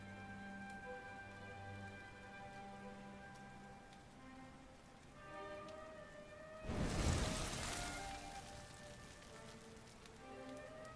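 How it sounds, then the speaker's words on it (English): Rain falls steadily in a Dragon Quest video game, a soft hiss under quiet musical tones, swelling into one brief louder rush near the end before easing off. "Looks like the rain's dying down."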